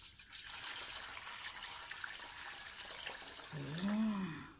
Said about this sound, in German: Dann tun wir das Wasser rein.